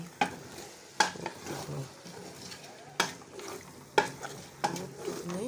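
Eru leaves being stirred with oil in a pot, giving repeated scraping strokes with a faint sizzle underneath, close and fairly quiet.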